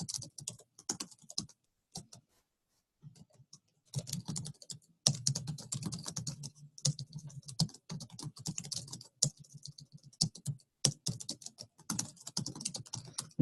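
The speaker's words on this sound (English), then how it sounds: "You guys are getting my typing skills today." Rapid typing on a computer keyboard comes in bursts of clicky keystrokes with short pauses between them, close and fairly quiet, with no one talking.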